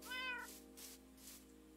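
A white cat meows in a video game, one clear tonal meow near the start, followed by softer thuds and quiet background sound, close and without speech.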